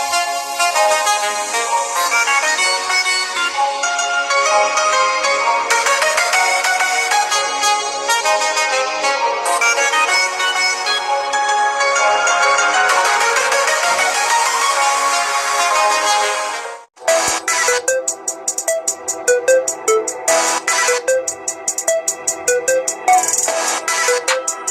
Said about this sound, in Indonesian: ngomongin soal lagu, kualitas speakernya sendiri kayak gini ya